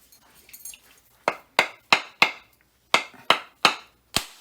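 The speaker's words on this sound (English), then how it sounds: "I'm going to use my hammer here" A hammer strikes coconuts eight times in two quick bursts, each blow a sharp, hard crack that fades fast, loud and close, with faint rustling before the first hit.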